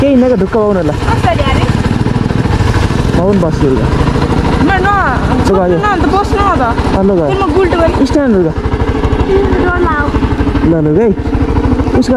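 A motorcycle engine runs close by with a steady low drone, while a person talks loudly over it for most of the time.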